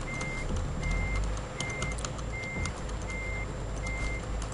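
A truck in Euro Truck Simulator 2 reverses with a regular series of loud electronic backup beeps, evenly spaced over a low engine rumble, with no talking.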